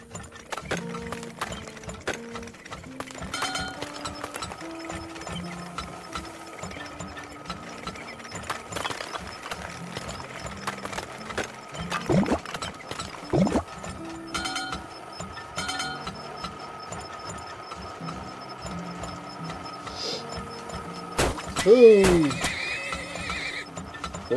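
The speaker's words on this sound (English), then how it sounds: "Ooh. Horses." Horses in a driving and trading video game neigh and clop their hooves, with a clear whinny near the end rising over a busy mechanical game soundscape.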